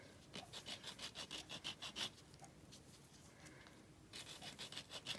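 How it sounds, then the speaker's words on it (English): Sanding tools rub back and forth across a wax seal, giving close, quiet rhythmic rasping strokes in two bursts separated by a brief pause, with no talking. "And it works fine with these sanding tools."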